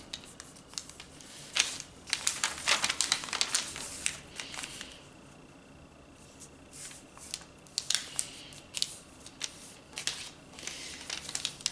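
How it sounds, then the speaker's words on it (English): Paper is creased and folded into a fortune teller, with bursts of crisp crinkling and rustling, a quieter pause in the middle, then more close-up paper handling. "Fold in each corner just off the center mark"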